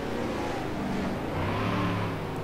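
Stock cars roar around the track in a NASCAR-style video game during a Nationwide Series race, a steady blended engine drone of several cars with a rising note near the end.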